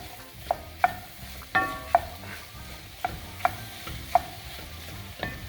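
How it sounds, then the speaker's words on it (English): A spoon stirring chopped garlic in a gumbo pot, with sharp metallic scrapes and taps against the pot every half second or so over a soft sizzle, close and clear with no talking. "And I'm going to give that a stir."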